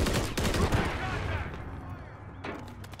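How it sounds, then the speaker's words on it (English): Gunfire in the video game Modern Warfare III: sharp shots crack close by at the start, then the shooting thins into a lingering rumble, and another burst comes near the end. "They're shooting everywhere, man."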